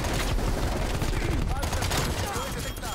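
Rapid automatic fire from an AMP63 pistol in Call of Duty Cold War, loud and dense, with rattling bursts packed close together over game noise for the whole stretch.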